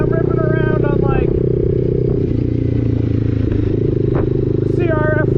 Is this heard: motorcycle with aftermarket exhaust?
yes